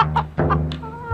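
A chicken clucks close by in a series of short, sharp, loud calls spaced irregularly, ending on a longer drawn-out note, with no voices over it.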